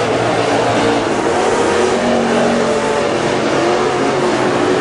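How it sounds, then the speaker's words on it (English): WISSOTA Super Stock race cars roar around Granite City Speedway during a heat race, a loud, continuous engine drone with rising revs as cars pass by, close and unbroken, with no audible talk. "Sabraski continuing to take it to the competition tonight in the final heat race for the Super Stocks."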